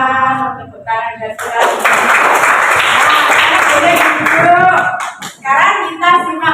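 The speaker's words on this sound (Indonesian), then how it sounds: "Tepuk tangan dan" Children in a primary-school classroom clap their hands together for about three seconds, a dense and fairly loud burst of many hands, with an adult talking just before and after.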